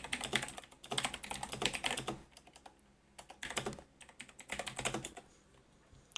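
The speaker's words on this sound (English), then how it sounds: "Apologies about the keyboard in the background there" Rapid clattering keystrokes on a mechanical computer keyboard, typed in bursts with brief pauses between them, moderately quiet in the background during an online racing event broadcast.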